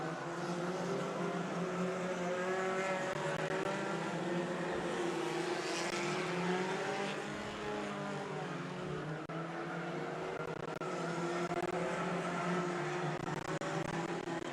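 Stinger race cars lap a figure 8 speedway at Evergreen Speedway, their engines a continuous, fairly distant droning roar that rises and falls as cars circle the track.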